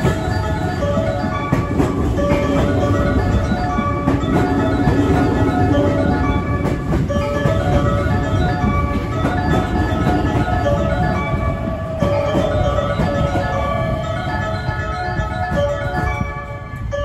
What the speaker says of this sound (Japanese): 2番乗り場に電車が参ります。